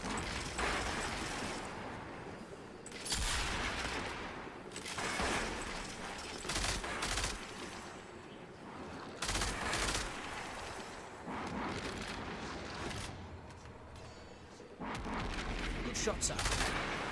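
Sustained turret gunfire in the sci-fi shooter Destiny 2, heavy repeated bursts rolling one after another with brief pauses, loud and close throughout, with game effects layered underneath.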